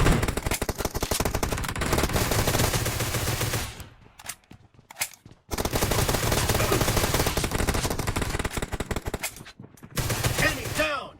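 Unsuppressed Groza rifle in PUBG Mobile firing long, loud automatic bursts, with two short pauses between the volleys.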